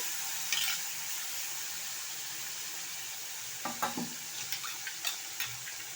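Masala is stirred and fried in a pan of oil, a steady soft sizzle with a few scraping stir strokes near the end.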